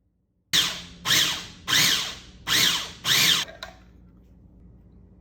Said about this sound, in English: then I'm going to slowly pulse the mini food processor